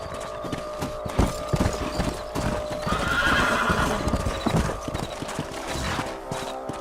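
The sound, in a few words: horses riding, hooves clip-clopping, from video game Red Dead Redemption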